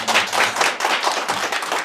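Audience clapping at a Korean political party event for a new-member induction, a dense, steady patter of many hands filling the short stretch with no voices over it.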